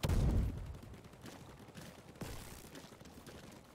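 Grenade explosions in the video game Crab Champions: a loud burst at the start, then a rough, crackling stream of blasts, with another sharp hit about two-thirds of the way in.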